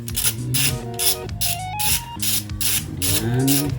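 Rapid ratcheting clicks come in repeated bursts while rocker cover bolts are tightened on a Nissan Serena C24 engine, with steady tonal sounds running underneath.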